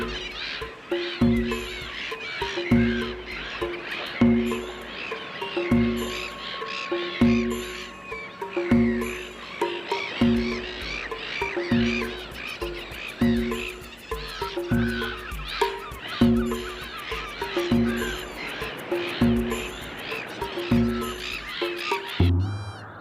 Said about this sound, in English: Millions and millions of gulls, cormorants, and gannets gather together and screech